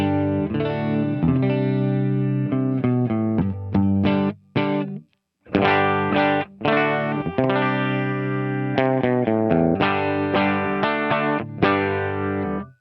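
Electric guitar plays through the stock amp model of a Line 6 HX Stomp, giving a driven tone with chorus shimmer. Chords and single notes ring out with a brief gap midway and no talking.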